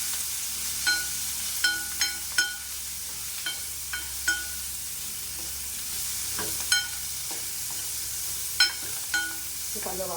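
Small shallots sliced into rounds sauté in oil, a steady low sizzle broken by about a dozen sharp metallic clinks of a ladle against the pan, close and irregularly spaced.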